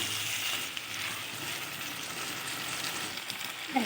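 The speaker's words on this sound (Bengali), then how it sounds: "এবার আবারও কিছুক্ষণ নেড়ে চেড়ে" Coriander and cumin spices sizzling in oil in a clay pan as they are stirred, a steady close frying hiss with a soft scrape near the end and no talk.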